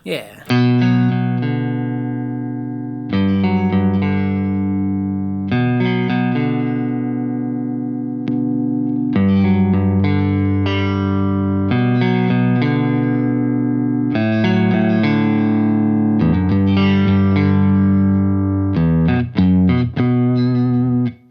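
Electric guitar through a Wampler Ego Compressor pedal riffing on a song, chords ringing out and sustaining evenly, each phrase held long before the next, loud and close with no talking.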